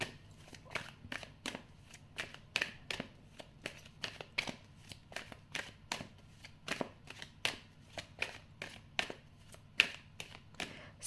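Tarot cards are shuffled by hand in a quiet room: a long run of crisp, irregular riffling snaps and taps, close and fairly soft, with no talking.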